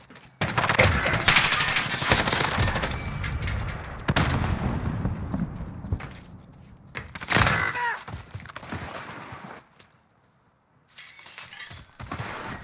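Bruen MK9 light machine gun firing in Modern Warfare: loud bursts of automatic fire with impacts and game effects, broken by short pauses and a near-silent gap before a final burst.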